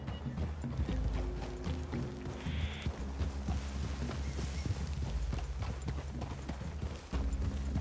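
Rhythmic clip-clop of horse hooves in the game Red Dead Redemption 2, several horses walking steadily nearby over a low ambient background, no talking.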